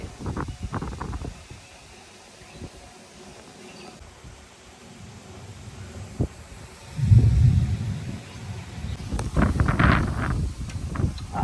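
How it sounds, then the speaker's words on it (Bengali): Strong gusting wind ahead of a rainstorm roars across an open outdoor spot, rising into a heavy rumbling blast midway and again near the end, with faint rustling and occasional distant voices. "আরে প্রচুর হাওয়া দিচ্ছে।"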